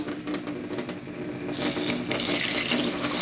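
Water pours steadily into a container, a continuous splashing rush that grows fuller and brighter partway through.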